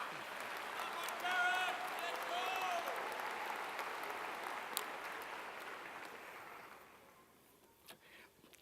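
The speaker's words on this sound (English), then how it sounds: "Yeah, parents are clapping." Sustained applause from parents at a spring college commencement, a broad wash of clapping that swells, holds, then fades out toward the end, with a few whistles early on.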